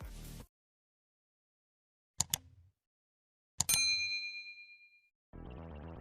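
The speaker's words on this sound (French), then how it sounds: "activer la cloche de notification" Two separate notification bell dings ring out alone, the second with a long shimmering metallic decay, set between short bursts of background music.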